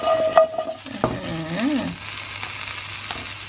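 Chillies, shallots and garlic frying in a wok give a short burst of sizzle and a metallic scrape and clank of the spatula, followed by a softer fading hiss, close and without speech.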